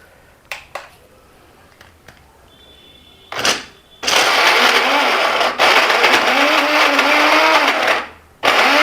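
An electric blender whirs loudly through juice ingredients in a long continuous run of about four seconds, preceded by a few clicks and a short burst, then cutting off abruptly.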